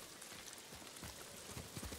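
Steady rain in the video game Ghost of Tsushima, a dense, even hiss of drops with faint low thumps scattered through it, moderately quiet and continuous.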